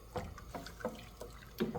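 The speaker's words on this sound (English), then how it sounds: "When it's done, rinse it off a little bit." Water splashing and trickling as blanched chicken and vegetables are rinsed in a colander, a series of short splashes about every third of a second, close and fairly quiet.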